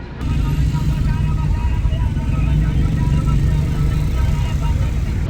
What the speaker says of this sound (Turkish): Sürekli akan bir trafik var.